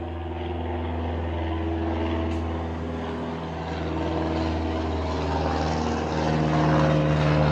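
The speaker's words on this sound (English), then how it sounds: "you might hear some planes fly over." Propeller aircraft flying over near an airport, a steady droning engine hum with a low harmonic buzz that swells slightly as it passes, continuous and fairly close with no talking.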